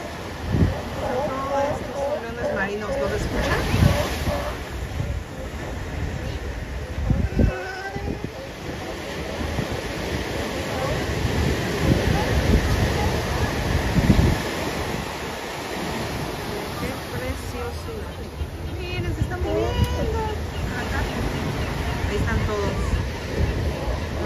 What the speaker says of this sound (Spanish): Nada más escuchen la fuerza del mar.